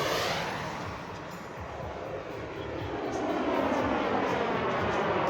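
A BVM Desperado RC model jet flies at Rabbit Lake, its turbine roaring as a steady, loud whoosh that dips slightly and then swells again, with no talk over it.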